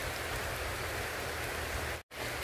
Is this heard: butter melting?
no